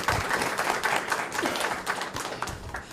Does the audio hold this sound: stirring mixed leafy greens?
no